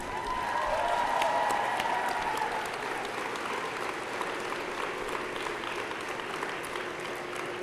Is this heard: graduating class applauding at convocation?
yes